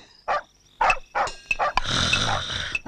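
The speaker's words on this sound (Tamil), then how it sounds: "என்னப்பா நாய் கத்துது?" A dog barks several times in short, loud bursts, then a longer rough, noisy stretch follows, close by.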